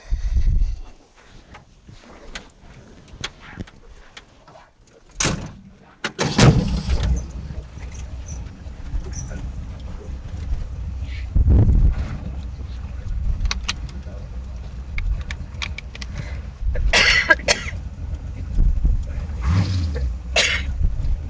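A 1932 pickup truck fitted with new mufflers is started and driven, with a low, steady engine rumble running through the clip, broken by a few sharp knocks and door clunks.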